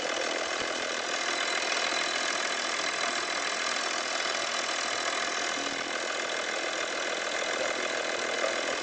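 Audi Allroad 2.5 TDI diesel engine idling steadily just after a turbo repair, a continuous even rumble with faint knocking texture, close up and unchanging throughout.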